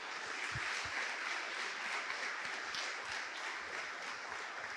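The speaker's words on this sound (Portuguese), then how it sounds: "Vamos aplaudir a Ele por isto." A church congregation applauds during a sermon, a steady wash of clapping from many hands filling the room at moderate level, with no voices standing out.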